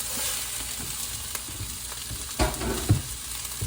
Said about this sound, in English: that sizzle is normal for sauteing things